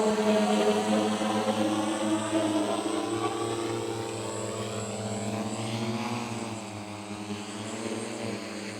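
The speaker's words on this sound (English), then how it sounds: "so now let's bring the drone back for landing" An IF800 Tomcat drone flies and comes in to land, its propellers giving a close, steady whine with shifting tones as it changes speed and descends, with no talking.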